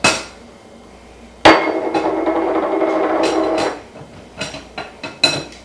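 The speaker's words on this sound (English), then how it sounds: "So I am going to use a fork to grate my butter because I don't want my hands to heat it up." A fork grates cold butter into a biscuit flour mixture for homemade buttermilk biscuits. One steady, close scraping rasp lasts about two seconds, followed by a few short, lighter scrapes.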